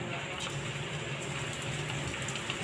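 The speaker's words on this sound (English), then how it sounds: "turn on the stove, and saute garlic" Garlic sautéing in a pan on a stove for fried stuffed tofu, a steady close sizzle with crackling that runs unbroken through the moment.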